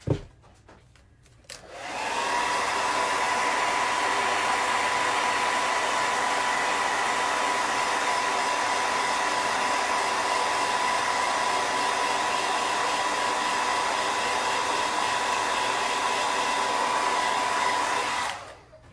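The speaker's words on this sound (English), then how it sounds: "Let me hit it with a hairdryer real quick." A hair dryer blows steadily and loudly for most of the clip, a constant whooshing roar with a faint high whine. It switches on after a brief pause.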